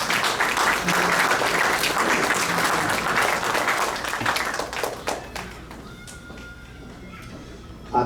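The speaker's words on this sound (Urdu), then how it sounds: "آپ کی خوب تالیوں میں" An audience at an Al-Mawrid Institute Canada Eid gathering in Milton claps in a dense, loud burst of applause for about five seconds. The clapping then thins out and fades into quieter room sound.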